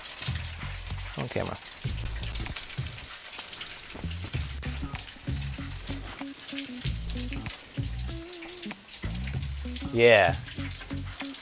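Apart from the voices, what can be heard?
egg foo young omelette mixture sizzling in a wok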